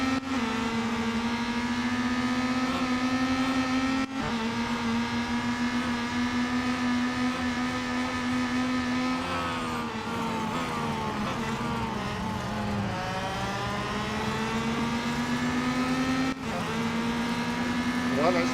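A Peugeot 9X8 race car in Real Racing 3 holds a sustained engine note that climbs and dips with gear changes and corners, loud and continuous, with a few sharp shift breaks.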